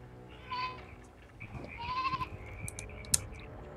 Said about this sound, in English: I'm wrestling a goat apparently